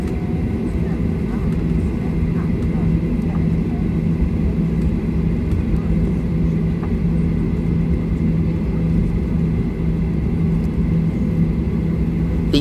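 A Qantas Boeing 737-800 taxis toward the runway, heard from inside the cabin as a steady, loud low engine rumble with no break.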